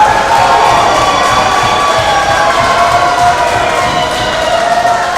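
A professional wrestling crowd at a Reality of Wrestling match between Zilla Fatu and Edge Stone, cheering and roaring loudly and steadily throughout, a dense wall of voices with some higher shouts.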